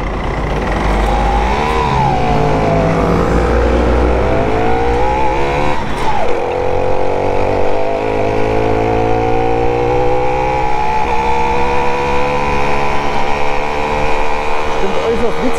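A small Simson SR2 moped buzzes along steadily while riding through town near Leipzig. The two-stroke drone stays close and loud throughout, its pitch sweeping up and down before settling into a steady, slowly rising whine.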